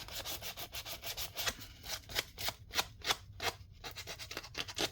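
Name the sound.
sanding a straggly paper piece on an altered envelope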